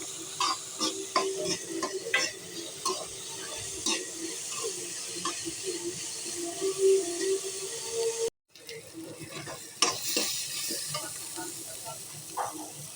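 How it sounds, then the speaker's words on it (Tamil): Sliced shallots and two green chillies with a spoon of salt sauté in a pan in a home kitchen, with soft sizzling and repeated scraping and stirring strokes of a spatula, a brief cut midway. "அதை நல்லா வதக்கலாம்."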